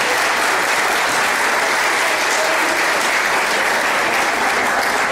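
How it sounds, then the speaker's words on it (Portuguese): Steady, dense applause from a lecture audience honouring a professor after his talk, sustained and even for several seconds with a faint murmur of the crowd beneath it. "uma salva de palmas ao professor Ivo"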